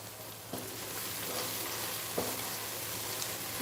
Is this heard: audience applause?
no